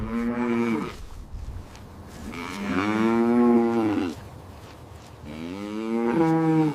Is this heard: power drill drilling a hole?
no